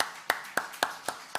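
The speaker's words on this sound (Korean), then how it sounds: "우리 옆 사람은 박수 한번 쳐주세요" A church congregation claps during a Sunday service, about six sharp, evenly spaced claps in a quick steady rhythm, fairly faint and with no voices.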